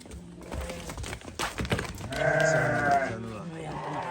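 A ram bleats loudly and drawn out near the recording, following some scattered clicks and rustling.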